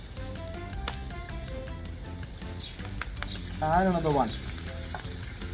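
Spinach (palak) leaves frying in very hot oil for chaat, giving a steady close sizzle and crackle that swells briefly as another leaf drops in, while someone talks over it.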